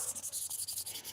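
Quick back-and-forth strokes of hand sanding on a workpiece, a rhythmic scratchy rasp at close range, steady and fairly faint with no talking.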